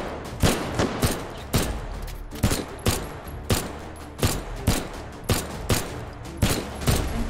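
Pistol shots fired in the VR shooter H3VR, a steady run of sharp, loud single cracks spaced roughly every half second to second, each with a short echoing tail, no talking.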